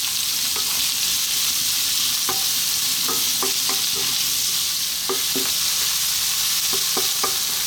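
Onion and garlic stir-fry over high heat in a pan, a steady bright sizzle broken by scattered clicks and scrapes of the spatula tossing them around.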